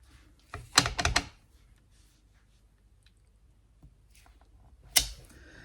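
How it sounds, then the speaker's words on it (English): A rubber stamp is pressed onto a handmade Christmas card, giving a couple of close, sharp thumps and taps, with a pause and one more tap near the end in a quiet room. "I'm going to stamp that in the centre,"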